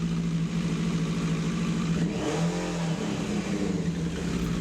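A Suzuki Katana 750, an air and oil cooled motorcycle, idles steadily during a carburetor sync with a constant close engine drone. The pitch dips briefly partway through, and a cooling fan blows nearby.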